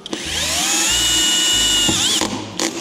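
A hammer drill fastening whirs steadily at high speed for a couple of seconds, with a low rhythmic pulsing underneath, then winds down before a brief burst.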